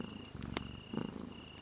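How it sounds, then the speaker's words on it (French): A cat purrs softly and steadily close by, a low rumbling murmur that carries through the whole short stretch, with a few faint clicks and a thin background tone, no voices. "calmement à chaque respiration, comme le ronronnement de ce chat"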